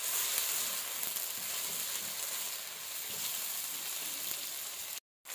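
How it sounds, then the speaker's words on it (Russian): Mushrooms and onion fry in a wok while being stirred, an even, close hiss and sizzle with soft scraping throughout, cutting briefly to silence near the end. "Все это хорошенько перемешиваем и обжариваем пару минуток до золотистого"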